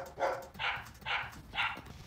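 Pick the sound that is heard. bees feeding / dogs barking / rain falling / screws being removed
dogs barking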